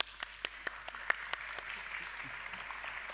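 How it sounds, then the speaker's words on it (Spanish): Audience applause at an academic panel event, faint and thin, with scattered individual claps standing out over a soft continuous patter. "Les pido un aplauso para ellos."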